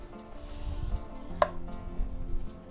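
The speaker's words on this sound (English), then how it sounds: "I will cut it so thin. It's like a julienne." A knife slices red capsicum into very thin julienne strips on a board, with quick close chopping taps over a soft background tone.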